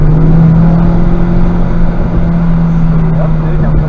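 A Honda Civic Type R engine held under throttle on a race track, a loud, steady droning hum from inside the car. A voice talks over it.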